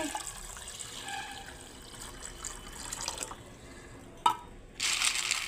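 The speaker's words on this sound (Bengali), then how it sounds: "আর এখন জল দিয়ে দিচ্ছি।" Water is poured from a kitchen tap into a pot of chopped carrots for pasta, making a soft trickling flow that swells into a louder gush near the end after a brief clink, with no talking.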